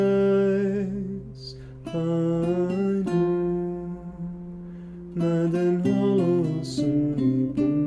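Solo voice sings the ancient Greek Epitaph of Seikilos as a sustained melodic line, starting in Greek and then in Portuguese, with a short breath gap near the middle; it is close, clear and steady.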